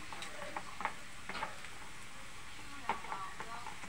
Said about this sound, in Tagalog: Ibubuhos na po yung alimasag.